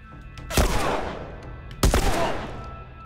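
Two sharp, loud gunshots from The Last of Us Remastered, roughly a second apart, each ringing out with a reverberant decay.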